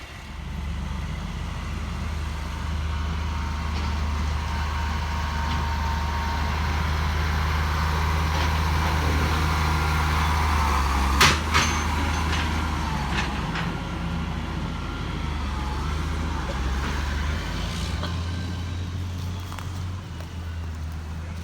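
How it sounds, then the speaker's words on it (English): A truck pulls carnival trailers during the 2018 Strates show train loading, a steady outdoor engine rumble with broad road-like noise throughout and a brief metallic clank near the middle. "he's gonna add some more trailers onto this and pull it"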